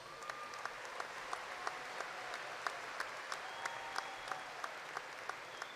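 A university commencement audience gives a sustained round of applause for graduates: dense, even clapping fills the hall, with a few sharper individual claps standing out near the front.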